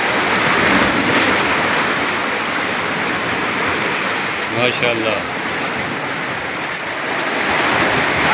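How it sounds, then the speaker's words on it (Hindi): Fast-flowing sea water and waves churn at a Karachi sea-fishing spot, making a loud, steady roar with wind buffeting the microphone and a brief spoken exclamation midway. "पानी बहुत तेज़ है"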